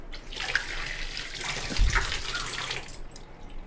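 Water poured from a small tea glass into a hot pressure cooker on a kitchen stove, a steady splashing gush lasting a few seconds, close and fairly loud, with no talking.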